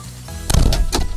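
A garbage truck door is pushed shut, giving two loud, close mechanical thuds and rattles in quick succession over a low idling hum.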